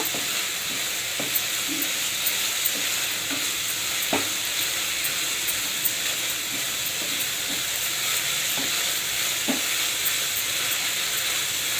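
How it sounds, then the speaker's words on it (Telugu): Yippee noodles sizzle steadily in an oiled pan while a spoon stirs them, giving a continuous close frying hiss with faint occasional scrapes and taps against the pan. "ఒక నిమిషం ఇలా బాగా కలుపుకుందాం."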